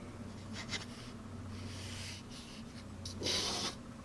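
A Hongdian C2 fountain pen scratches across paper in quick, fast strokes, a soft close rubbing that rises to a brighter, louder burst near the end, with no talking.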